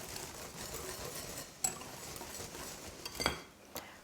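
Whisk stirring sifted cocoa and gluten-free flours in a bowl, a soft continuous scraping swish with a few light clinks against the bowl, close and fairly quiet, no talking.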